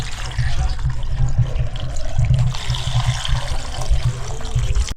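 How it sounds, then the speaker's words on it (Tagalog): Water pours steadily into a cooking pot of soup with onion, tomato and chili, a continuous close splashing rush lasting about five seconds over a low rumble. "Tapos lalagyan na rin natin ng tubig"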